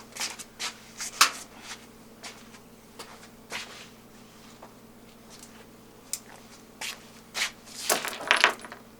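Steel washers and bolts from a Maxant 3100P honey extractor clink and tick against a magnet in a string of sharp, scattered metallic taps close by, a denser flurry near the end.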